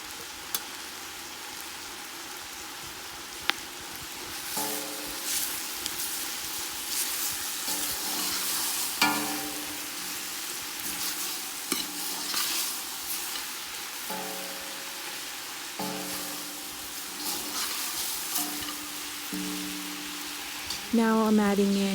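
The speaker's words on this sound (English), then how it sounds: "Now we're adding in 2 teaspoons of green chili chopped up." Mutton curry sizzles and fries in a pan with chopped green chili added, a steady crackling hiss broken by intermittent scraping and stirring strokes, with soft speech in the background.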